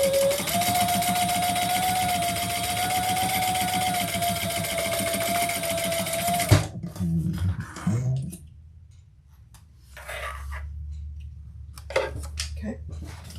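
A sewing machine stitches a seam on a fabric bag, running with a steady close whirring hum for several seconds before stopping abruptly, followed by handling noises and some talking.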